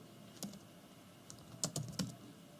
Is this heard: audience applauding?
no